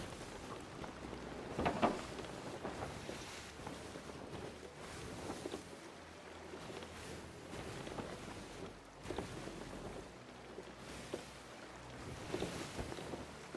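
A sailing ship at sea in the video game Sea of Thieves, with steady creaking, rushing water and wind over the hull, moderately loud and continuous.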